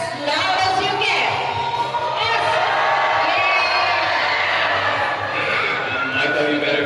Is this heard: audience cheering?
yes